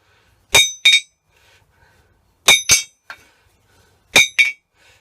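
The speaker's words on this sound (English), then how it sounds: "I know there's someone in Germany who wants me to do a hammer test" Three pairs of sharp, ringing hammer blows strike an anvil-shaped steel object, each double strike loud and close with a short metallic ring and quiet gaps between the pairs.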